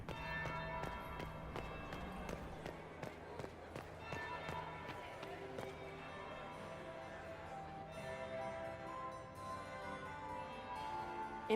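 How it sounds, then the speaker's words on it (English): A bell tolls in the Dragon Age Inquisition game during a ballroom party, several resonant strikes ringing out with long decaying tones under quiet movement, fairly faint overall. "That's the bell."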